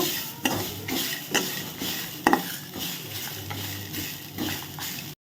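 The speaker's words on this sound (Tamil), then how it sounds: "ஸோ இந்த தேங்காவோட ஈரத்தன்மை எல்லாமே நல்லா போய் நல்லா ட்ரையாக வறுப்படணும்" Grated coconut dry-roasts in a pan for Chettinad chicken sukka masala, with a continuous rustling hiss and frequent close scraping stirs, one sharper clatter midway, and no voices.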